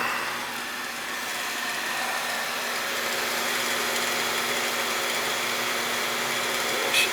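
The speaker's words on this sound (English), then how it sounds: "Before it kicked on at 55, so it's pumping up now." A household water booster pump runs steadily, building pressure while an upstairs tub is open, a continuous even motor hum with a faint tonal whine throughout, close and constant, with a small click near the end.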